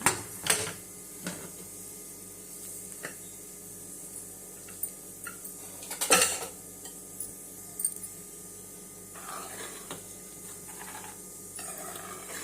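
A cooled pressure cooker of mutton chops being opened, heard as a few metallic clanks and knocks of the lid and pot close by, separated by quiet stretches with a faint ticking hum underneath.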